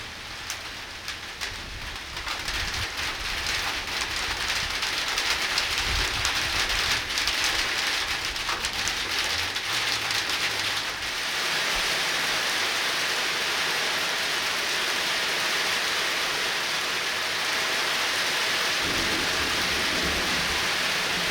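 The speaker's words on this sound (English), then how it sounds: "We're going to be getting some rain here." Steady heavy rain pours down on a surface in a constant hissing patter, with a low rumble underneath early on.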